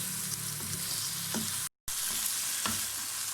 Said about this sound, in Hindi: ये देखें मसाले ऐड करने के बाद इसको हमने अच्छी तरह से भून लिया है